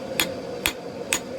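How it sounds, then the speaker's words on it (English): A hammer forging a crucible steel bar at welding heat strikes three evenly spaced, sharp metallic blows over steady background noise, with no talking. "up at welding heat, it's not moving very much under the hammer"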